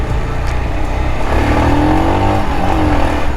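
Engine of a Royal Enfield Himalayan 411 motorcycle in first gear, a steady loud drone that swells into a rising rev with harmonic whine, heard close up from the ridden bike with wind noise.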